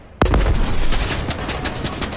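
A hip-fire gunshot from a running player in a Fortnite Chapter 2 solo match rings out as one sharp loud crack, then dense rumbling battle noise carries on under it.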